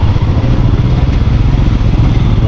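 A motorcycle engine runs loud and close with a rough, steady drone and rattling clatter on a dangerous mountain road during a Zanskar expedition.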